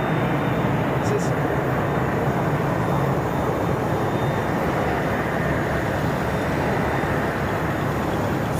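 An aircraft on approach at Boeing Field gives off a loud, continuous broadband roar that holds steady from start to finish, while people talk beneath it.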